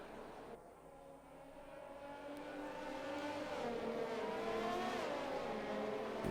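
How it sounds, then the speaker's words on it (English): Race car in an Xbox racing game pulling out of the pits, engine note climbing steadily as it accelerates, a continuous rising drone with no talk over it. "Just leaving the pits now with a set of soft tyres."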